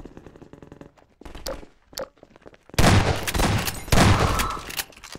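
Gunfire in the video game Half-Life 2 Episode 1: faint scattered shots, then loud, dense bursts of rapid firing that fill the last seconds.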